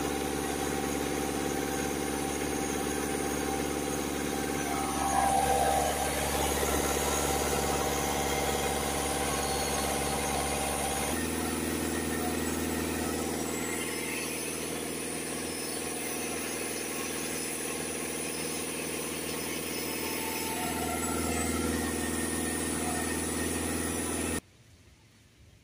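Ford Focus C-Max 1.6 TDCi diesel engine with a DPF ash accumulation fault, held at a steady 2000 RPM: a constant, loud mechanical drone with a whine, running evenly until it cuts off near the end.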